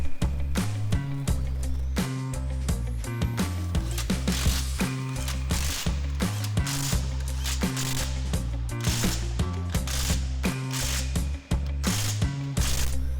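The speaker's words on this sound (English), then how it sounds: "Run the lug nuts down by hand and tighten them with an impact." An impact wrench tightens lug nuts on a 2017 Subaru Crosstrek wheel in short rattling bursts of motor whine and rapid hammering, with brief pauses between runs, loud and close with no speech.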